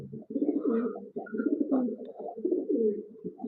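Pigeons coo steadily and close by at a pigeon farm in Bhawal, with overlapping throaty rolling calls filling the whole stretch and only brief pauses.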